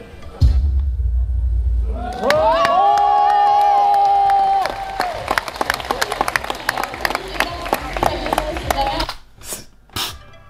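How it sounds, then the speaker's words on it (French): An audience applauds and cheers, with a loud sustained crowd roar and rapid clapping that swells and continues, then breaks off briefly near the end. "Juste ces applaudissements et tout."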